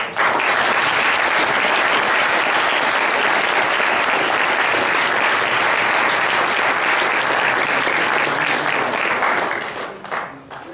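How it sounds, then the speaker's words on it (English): An audience at a district speaking competition breaks into loud, dense applause that holds strong for about ten seconds, then thins and fades out at the end. "So how about a round of applause for"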